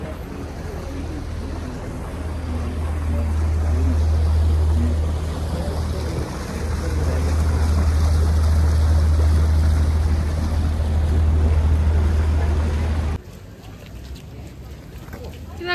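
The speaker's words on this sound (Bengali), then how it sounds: "বোট এখন আসছে, বোট আসছে" A boat passes along a canal in Bruges, a steady low motor drone under outdoor ambience with a person talking over it, until it suddenly cuts away near the end.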